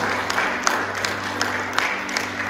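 A church congregation claps during a Punjabi-language sermon, a fairly soft, steady patter of hands with a few sharper claps standing out over a low hum.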